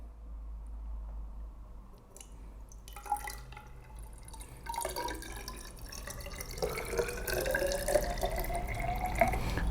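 Water pours into a glass measuring cylinder up to about 230 millilitres, a close, rising gurgling trickle whose pitch climbs steadily as the cylinder fills, with faint dripping at first and no talking.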